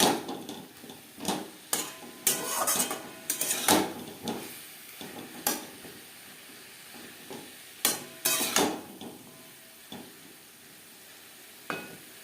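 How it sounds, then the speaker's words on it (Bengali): Cauliflower florets tossed into spice masala cooked down over low to medium flame and stirred: a bed of sizzling frying runs throughout, with repeated scraping and clattering stirs against the pan at an uneven pace. "মশলা কষিয়ে নেওয়া হয়ে গেছে এবার দিয়ে দেব ঝাঁপিয়ে রাখা ফুলকপি"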